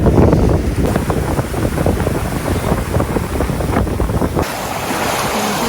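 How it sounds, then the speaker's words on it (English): Strong, steady wind roars on the open ocean while a sailboat runs downwind, with waves and rushing water blended into a loud, continuous wash and no voices. "So that must be 35 knots of wind, the true wind, current wind."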